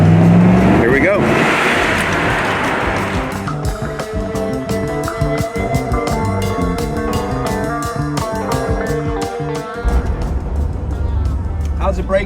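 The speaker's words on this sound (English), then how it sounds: "we're cruising in the 81 Corvette. We're actually getting ready to hit the interstate here" Engine and road noise from a 1981 Chevrolet Corvette cruising onto the interstate, a steady close drone with a rhythmic pulsing texture that holds throughout, with people talking over it inside the car.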